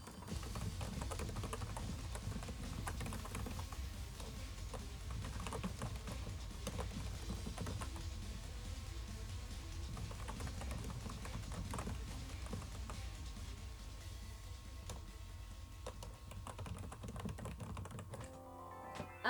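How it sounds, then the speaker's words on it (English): Rapid clattering keystrokes on a computer keyboard run almost unbroken for about nineteen seconds, close and fairly quiet, with dense irregular taps that stop just before the end. "Okay, I typed it."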